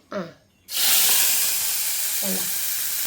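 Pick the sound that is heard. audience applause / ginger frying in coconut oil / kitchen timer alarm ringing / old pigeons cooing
ginger frying in coconut oil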